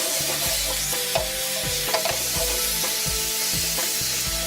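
Beef stir-frying briefly over high heat in a hot wok or pan, with a steady bright sizzle and regular scraping, tossing strokes about twice a second, close and fairly loud, no voices.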